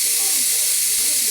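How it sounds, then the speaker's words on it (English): Steam rushes out of an Instant Pot pressure cooker during a pressure release, a loud, steady hiss that holds unbroken and close throughout. "I'm letting all the steam off on the pressure cooker,"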